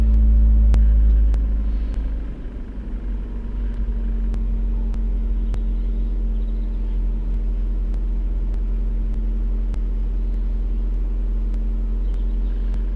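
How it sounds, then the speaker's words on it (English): A car engine starts with a loud low burst and then settles into a steady idle, a continuous even rumble with a faint hum, heard close with no talk. "Start the car."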